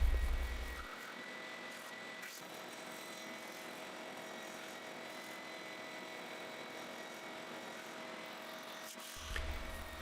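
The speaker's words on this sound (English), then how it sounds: "Now it's time to go to the oscillating sander to start the shaping process." An oscillating spindle sander shaping glued-up wooden easel pieces hums with a steady, moderately quiet motor drone and light sanding hiss, with faint thumps near the start and end.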